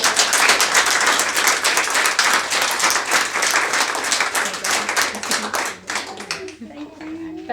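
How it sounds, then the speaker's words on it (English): An audience at a Women in Business panel event for World Mental Health Day gives a round of applause: sustained, dense clapping from many hands that thins out near the end. "If we could give them a round of applause."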